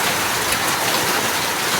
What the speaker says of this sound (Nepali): असिना पनि आइरहेको छ